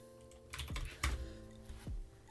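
Keystrokes on a computer keyboard while entering a text prompt for music-production help, a short burst of several clicks with a couple of louder strikes, close and alone with no talk.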